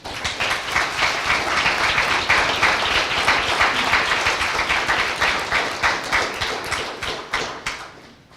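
Audience applause at a First Friday gathering at The Cedars, dense steady clapping from a sizable crowd that holds strong for about seven seconds before thinning into scattered claps and fading out.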